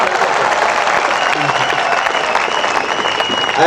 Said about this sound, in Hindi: एक बार खुल के ताली बजाओ तो मैं आगे बात करूं